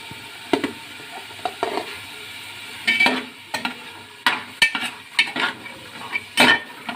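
Two tomatoes tossed into a frying pan with beans and stirred, giving close, irregular scrapes and clacks of a utensil against the pan over a low steady sizzle.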